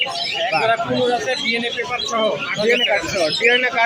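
Lovebirds and other caged birds chirp and chatter continuously at the Mirpur bird market in Dhaka, a dense mix of calls mixed with a voice speaking throughout.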